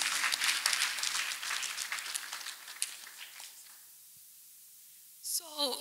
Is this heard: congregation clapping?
yes